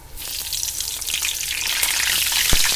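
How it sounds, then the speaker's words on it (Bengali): Frozen chicken cutlets hit hot oil and fry with a loud, dense sizzle that swells and stays strong, with a sharp spitting pop near the end. "এখানে আছে চিকেন কাটলেট, এগুলো আমি রোজার আগে ফ্রোজেন করে রেখেছিলাম, ওগুলো এখন ভাজবো 4টা"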